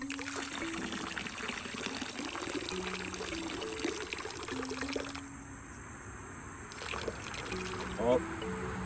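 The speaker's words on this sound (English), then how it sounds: "They're trying to swim out the second I decide to pour it." Water poured into a container holding small lampreys, a steady splashing pour with trickling that drops away near the end, close to the microphone, with a brief gurgle at the finish.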